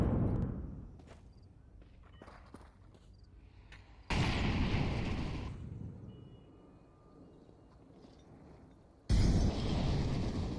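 Grenade blast in a Counter-Strike match, heard as loud broadband bursts at about 4 and 9 seconds that each sustain for a moment before easing, over a quieter stretch of scattered game noise.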